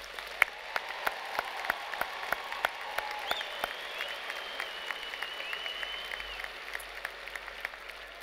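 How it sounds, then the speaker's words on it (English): A commencement crowd at a University of Memphis ceremony gives the graduating class a loud, sustained round of applause, dense clapping with a few sharp nearby claps standing out, filling the hall throughout. "how about a loud round of applause for these graduates?"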